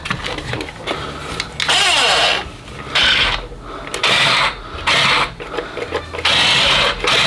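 Electric motors of a 1/16 scale Mitsuwa RC T34-85 tank whir in repeated bursts as it drives, with a high-pitched mechanical buzz rising and dropping in several loud pulses, no talking.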